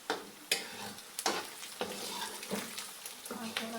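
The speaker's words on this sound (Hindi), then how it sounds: "ये देखें अब प्याज भूनना शुरू हो चुका है।" Chopped onions fry and sizzle in a pan while a spoon stirs them in steady, scraping strokes roughly every half second over a continuous hiss.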